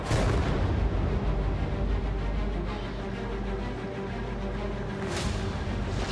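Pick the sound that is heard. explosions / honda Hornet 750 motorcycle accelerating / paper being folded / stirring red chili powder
explosions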